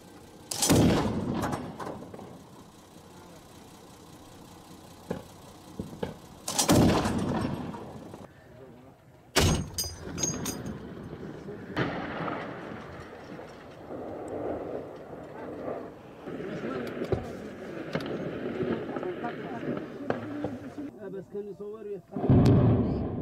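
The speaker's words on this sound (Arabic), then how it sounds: "هجوم الحوثيين رافقه قصف بالأسلحة الثقيلة على مناطق سكنية" Heavy weapons shelling during clashes in Yemen, several loud booming blasts spaced seconds apart with rumbling echoes in between, under a voice speaking throughout.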